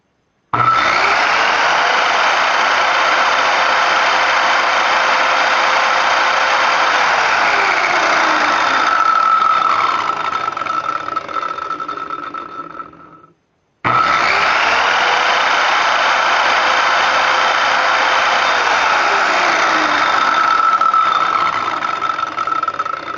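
A 7-1/4 inch circular saw motor runs loud and steady after being started. It whines down as it shuts off, then starts again and runs at full speed.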